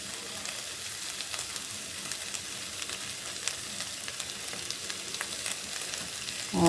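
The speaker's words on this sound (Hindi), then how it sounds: "अब मैं डालूँगी इसमें थोड़ी सी क्रीम डालूँगी" Chicken malai boti masala sizzles steadily in a pan as cream is added, a dense crackling fry throughout with faint scraping, ending in a louder burst.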